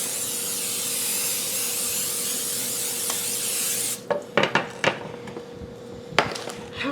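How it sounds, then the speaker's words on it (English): Cooking spray hissing steadily for about four seconds onto a 9x13 cake pan for brownies, followed by several close clatters and knocks of the pan and can. "I'm going to spray the cake pan."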